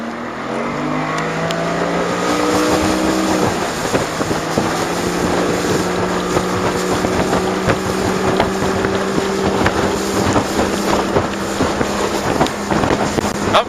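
A boat on plane across choppy water, its engine droning steadily as the hull slaps and thumps through the waves under heavy wind buffeting.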